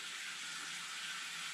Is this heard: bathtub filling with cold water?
yes